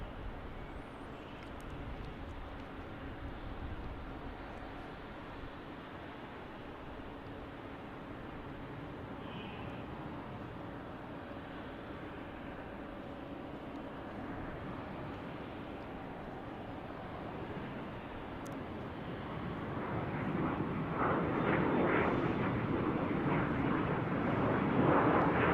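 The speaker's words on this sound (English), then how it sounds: "Here's our Challenger, our NetJets Challenger departing here, 350." A NetJets Challenger 350 business jet departs from Salt Lake City airport with a steady, distant roar. The sound thickens and grows louder toward the end as the jet climbs out.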